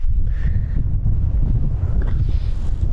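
Strong wind buffets the microphone at a wild camp on Kinder Scout, producing a steady, loud low rumble with gusty fluctuations that continue throughout and no voices.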